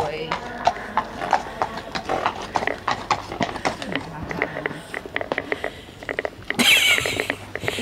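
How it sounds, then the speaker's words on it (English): Horse walking in an indoor riding arena, steady hoof clip-clop on the arena footing close by, with people talking over it. "you've just stole Piggy's horse and you just walk around the indoor on your own"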